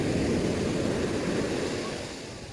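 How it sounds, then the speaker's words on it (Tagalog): Ocean waves roll in with a steady broad wash of surf, mixed with wind, fading slightly at the end. "Alon."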